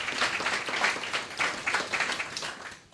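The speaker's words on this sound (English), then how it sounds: "Can everyone give her a round of applause?" An audience at a Nashville Chamber of Commerce event claps in a brief burst of applause, an even patter of many hands that tails off at the end.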